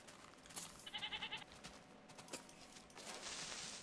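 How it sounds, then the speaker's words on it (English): Goats in the Minecraft video game bleat in a quick wavering burst, with a few more short blips and game noises around it, all fairly quiet. "Goats."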